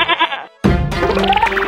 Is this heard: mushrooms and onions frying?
no